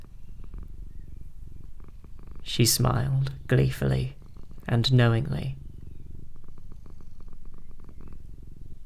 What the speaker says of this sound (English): stroked the purring black cat beside her